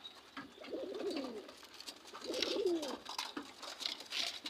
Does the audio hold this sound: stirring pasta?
no